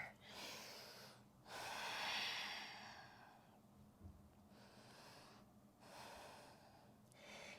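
Deep, audible breaths fill a quiet yoga class, long rushing inhales and exhales alternating in a slow, even rhythm, close up and steady, with no talking.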